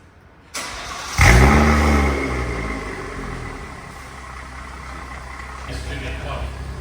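A BMW M140i fitted with an XFORCE valved exhaust, non-resonated Varex system, barks to life and revs hard, then settles into a loud, steady idle rumble close to the microphone.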